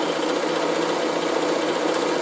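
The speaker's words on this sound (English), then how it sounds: "Reverse it, and then I just run down each seam." A Bernina sewing machine runs steadily along a seam, its motor and needle giving a continuous, even, close-up buzzing hum with no pauses.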